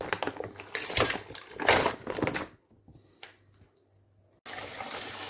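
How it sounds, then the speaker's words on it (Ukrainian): Running cold water splashes and gurgles as thawed octopus is rinsed by hand, stopping briefly before the flow resumes steadily. "Так, мию в холодній воді."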